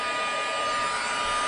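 Steady, close roar of an embossing heat tool blowing hot air over vellum for handmade holiday card making, a continuous broadband whoosh with no pauses or voices.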